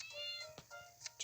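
A house cat meows several times in a row, short close-up cries that are fairly quiet, alone with no talk over them.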